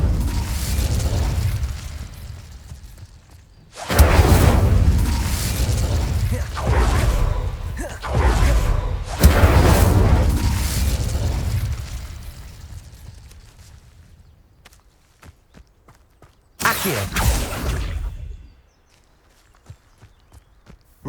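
Fire spell bursts in the Hogwarts Legacy game: several loud whooshing, booming blasts in separate bursts, a long roaring stretch then a shorter final burst, with quieter crackling gaps between.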